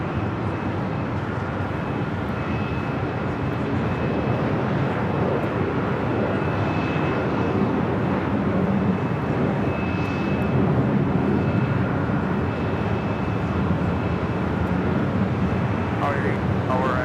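A Hawaiian Airlines A330 jet departs LAX for Honolulu, producing a moderately distant, steady engine roar with a thin whine, and speech is heard over it.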